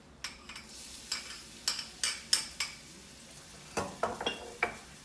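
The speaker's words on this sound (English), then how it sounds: "you're just going to saute that up" Garlic and onions sauté in a little olive oil while a utensil scrapes and clinks against the pan in a string of sharp, separate knocks over a faint, steady sizzle.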